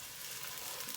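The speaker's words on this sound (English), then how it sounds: "I started frying again" Meat fries in a pan for a pepper water and rice dish, giving a steady, soft, even sizzle that carries on throughout without any talking.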